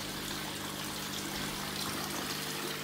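Small decorative water fountain in a restaurant trickling steadily, a soft continuous wash of running water at low level with no voices.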